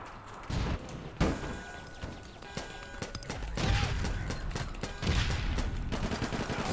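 Rapid gunfire from a firefight in the online shooter APB Reloaded: dense bursts and sharp overlapping shots crackle almost nonstop, with heavier volleys near the start and again toward the end.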